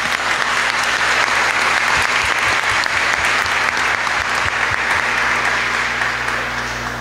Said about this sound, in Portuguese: Vamos dar uma salva de palmas para elas